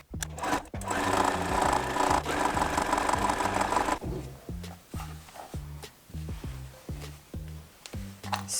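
A sewing machine stitches hunter's star quilt block pieces, first in a fast, loud continuous run and then in short rhythmic bursts of chugging stitches with brief stops between them.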